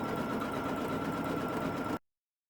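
An embroidery machine stitching an in-the-hoop zippered pouch gives a continuous, even mechanical whirr with rapid needle strokes for two seconds, then stops abruptly into silence.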